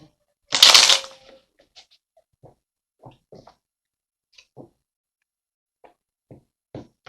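Tarot cards shuffled once in a short, loud riffling burst, followed by a scattering of faint, sparse clicks and taps as cards are handled and laid down, close to the listener.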